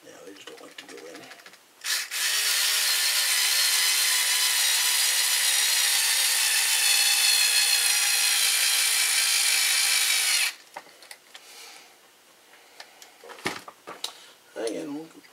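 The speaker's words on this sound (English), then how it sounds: "Grab another one of these screws. Put them in like that. We'll try the driver again." A power screwdriver drives a screw into an RC car kit part for about eight seconds, a steady loud whir that stops abruptly, followed by quieter handling clicks and rustles.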